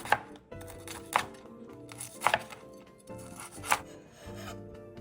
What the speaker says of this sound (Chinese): 趁热将肉切成厚片。